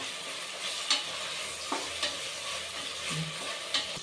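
Chopped tomatoes frying in a pan for chicken curry, a soft steady sizzle with a few scattered stirring scrapes, close by and without talk.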